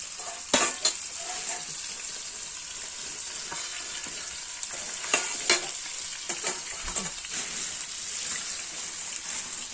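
Fish frying in a pan over embers outdoors, a steady loud sizzle with occasional clinks and scrapes of stirring, close up, and no talk.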